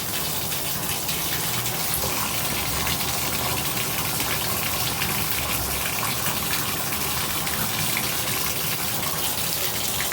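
Water pouring steadily from a shower head fed by a Delta shower valve, a loud continuous hiss and spray close by with no pauses or talking.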